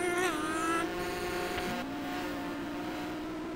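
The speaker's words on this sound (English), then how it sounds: "Now we get to hear that engine sound all over the place against the corporate racers." Race car engines in a Sega Genesis racing game drone steadily throughout, a synthesized, buzzing whine that rises in pitch, briefly dips, then climbs again, with a higher engine note layered over it early on.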